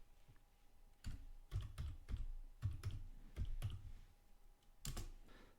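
Computer keyboard keys clack in short uneven bursts as a ZFS snapshot command is typed on Ubuntu, close and fairly quiet with brief pauses between keystrokes.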